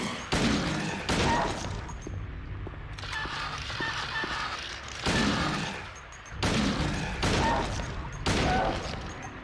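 Repeated gunshots in the survival horror game Silent Hill 2 ring out in loud, separate bursts spaced about a second or two apart, with heavy thuds and game ambience between them.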